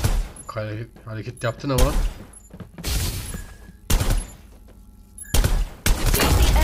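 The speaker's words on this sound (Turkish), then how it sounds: "bu M16 gibi atış diyormuş ya" Rifle fire in the battle royale shooter Farlight 84, an M16-style gun letting off short loud bursts and volleys in several separate clusters, sometimes overlapping, while someone talks over the opening seconds.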